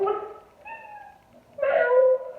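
Two house cats meow in short, separate calls, a couple of softer cries followed by one louder, drawn-out meow, close by in a quiet room.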